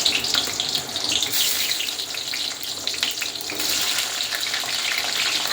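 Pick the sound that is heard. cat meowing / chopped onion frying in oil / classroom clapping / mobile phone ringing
chopped onion frying in oil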